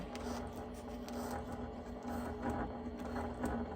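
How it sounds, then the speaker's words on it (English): A Brother PQ1500SL semi-industrial sewing machine sews through six layers of cork, running steadily with a continuous mechanical whir and a rapid needle clatter, fairly close, with no talking. "It's making a little noise."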